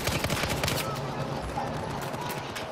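Gunfire in Battlefield 4 gameplay: rapid bursts of shots crackle densely at first, then thin into scattered reports over steady background noise.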